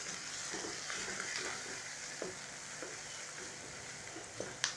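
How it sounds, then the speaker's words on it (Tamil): Onions and curry leaves frying in a pan for nethili karuvadu thokku, a faint, steady sizzle with occasional soft stirring clicks, no voices. "வெங்காயம் ஃப்ரை ஆகும்போது கருவேப்பிலை ஆட் பண்ணிக்கிறேன்."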